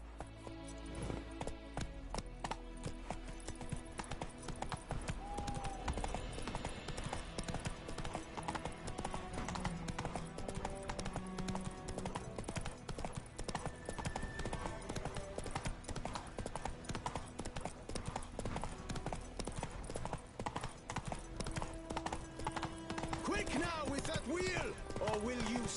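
A horse trots in The Witcher 3: Wild Hunt, its hooves making a steady, continuous clip-clop that lasts throughout with a quiet ambient bed and occasional faint voices underneath.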